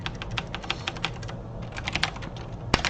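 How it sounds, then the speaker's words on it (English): Fast, steady keystrokes clatter on a computer keyboard up close, with a brief pause midway and a sharp louder tap near the end, and no voice. "is my keyboard coming off really loud?"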